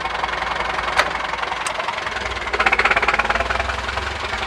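A Massey Ferguson 165 tractor engine idles and chugs steadily in its lowest gear, a close, low diesel knock with a brief rise in revs partway through, and no talking.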